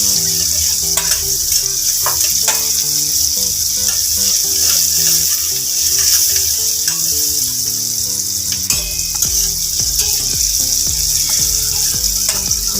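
Onion fries in a pan for vegetable momos until it turns reddish, a loud, continuous hiss close up with a few faint clinks of stirring underneath and no talking.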